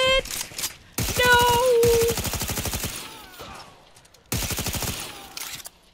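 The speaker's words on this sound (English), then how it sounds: "You have to shoot the helmet off and then do a headshot." Gunfire in Fallout 4 played with mods: long rapid bursts of automatic fire, loud and close, in several strings separated by short pauses, with a tonal game effect over the first burst.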